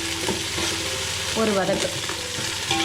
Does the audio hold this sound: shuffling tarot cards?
no